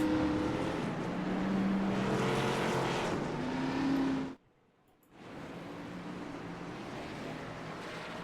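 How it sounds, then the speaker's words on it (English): Race car engines in a Chicagoland Xfinity racing game roar together as the field accelerates after the pace car pulls off; the dense drone drops briefly to near silence, then returns at a lower level. "Here we go as the pace car rolls off."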